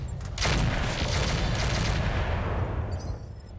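Rack weapon fire in a sci-fi dropship video game, a loud, dense roaring burst that starts abruptly and holds for about three seconds before tapering off.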